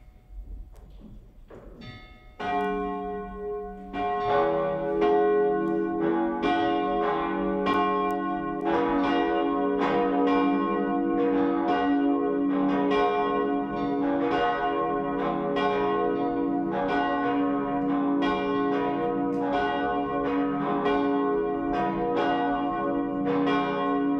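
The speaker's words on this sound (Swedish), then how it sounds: "Och låt oss nu lyssna till kyrkklockorna." Church bells of a cathedral peal continuously in a rich, overlapping cascade of tones, ringing loud and steady with no voices.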